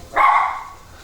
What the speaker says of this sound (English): Dog walking past that side.